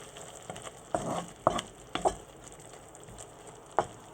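Cheese being stirred into a mussel and king prawn spaghetti sauce in a hot pan, with several distinct scraping stir strokes over a steady low sizzle, close and fairly quiet.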